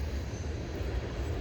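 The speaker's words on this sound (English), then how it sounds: "Also, train." Low rumbling train rolling past outdoors, a steady broadband roar heavy in the bass that holds evenly throughout with no let-up.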